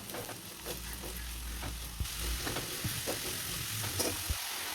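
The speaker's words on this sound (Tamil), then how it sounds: "மூணு பெரிய வெங்காயத்தை இப்படி இப்படியாக கட் பண்ணி வச்சுருக்கேன் அதை இதில் சேர்த்துப்போம் இதை வதக்கி விட்டுக்கலாம்" Sliced big onions sauté in oil in a kadai, with a steady close sizzle and frequent spoon scrapes and stirring clatter throughout, and no talking.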